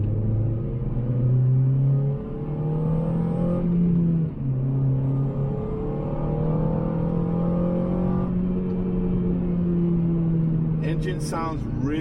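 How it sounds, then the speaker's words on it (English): Honda Civic fitted with a swapped K24 engine, revving up and settling in a steady rumbling idle, close and loud, with a few higher rises in pitch. "Engine sounds really healthy."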